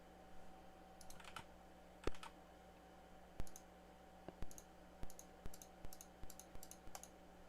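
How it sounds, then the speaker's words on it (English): Sharp, dry clicks from a computer sound control being muted and unmuted, heard as a run of separate taps, some single and some in close pairs, fairly near against a faint steady hum in a quiet room. "I'm guessing you heard some clicking as I muted and unmuted that"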